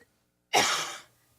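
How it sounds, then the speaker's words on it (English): A single harsh, forceful cough bursts out close by and fades over about half a second, with silence before and after and no talk. "Let me get one more cough out."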